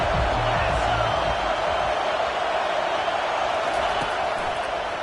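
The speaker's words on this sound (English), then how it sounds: "Decibels rising as the crowd gets behind this defense on 3rd down." NCAA college football stadium crowd roars steadily on a third-down defensive stand, a loud dense wash of cheering that holds without letup.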